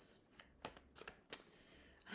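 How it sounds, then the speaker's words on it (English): Tarot cards riffled and shuffled by hand in several quiet bursts of crisp flicking and snapping, close up and soft, with pauses between the bursts. "I'm going to shuffle all of them this time."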